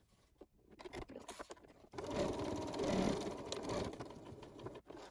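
A sewing machine stitches a 1/4 inch seam on a fabric face mask and back-sews at the end, a steady close motor whir that starts after a brief quiet rustle and runs for a few seconds before stopping.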